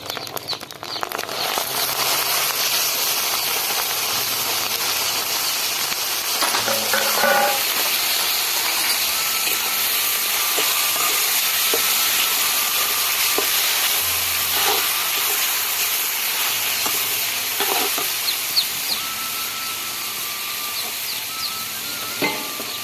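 Boiled ash gourd, added after eggplant, frying in a pan with a steady close hiss and sizzle, broken by a few clinks and stirring scrapes throughout.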